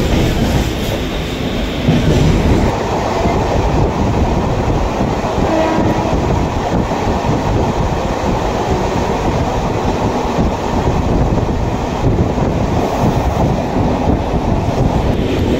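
A Mumbai suburban local train runs steadily as it approaches Dadar station, giving a loud continuous rumble with rail rattle and wind buffeting throughout and no talking.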